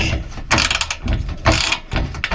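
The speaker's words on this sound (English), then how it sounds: "we want to tighten this up to where the nut gets up tight against the shank" A ratchet wrench with a 1/2 inch socket tightening a nut against a bolt shank during a Jeep 4xe Slipstream install, giving loud, close bursts of rapid clicking in several separate runs with short pauses between them.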